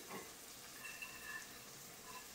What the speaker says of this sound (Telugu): ఇప్పుడైతే కొబ్బరి వేస్తున్నాను.